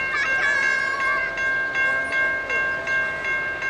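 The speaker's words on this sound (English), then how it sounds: "We got a train coming here at Mulberry Street." A CSX freight train approaches the Mulberry Street railroad crossing in Deshler, Ohio, sounding its horn in a series of repeated blasts over the rumble of rolling cars, moderately loud from a short distance.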